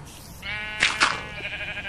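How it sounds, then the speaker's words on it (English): A sheep in the video game Minecraft gives a clear, tonal bleat of a couple of pulses over light background noise, heard alone without talk. "now the sheep are gonna escape"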